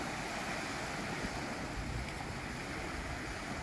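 Sea waves breaking on the beach at Anzio, Italy, a continuous broad wash of surf with some wind, loud and steady throughout with no voices.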